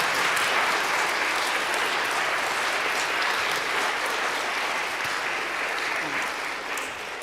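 A school audience applauds to close student history presentations, dense steady clapping filling the whole stretch at even loudness and easing slightly near the end.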